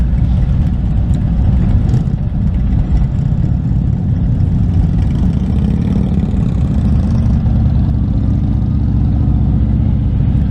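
A Honda CBR650R sport bike rides among Harley-Davidson motorcycles in a Harley Homecoming 2025 group ride, a loud, steady, unbroken engine drone with low rumble and occasional revs throughout, no voices.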